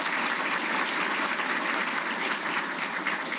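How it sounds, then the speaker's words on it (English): Steady, full audience applause at a military agency Hall of Fame ceremony, an even roar of many hands clapping without a break for a few seconds. "A round of applause for them too"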